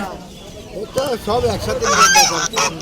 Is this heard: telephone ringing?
no